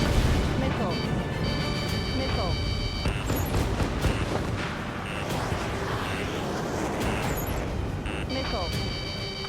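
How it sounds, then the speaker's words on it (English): A railgun firing during an aerial combat mission in the Ace Combat 7 video game, dense booming blasts and roaring jet noise layered over one another, loud and continuous, with game voices talking over it. "Firing railgun."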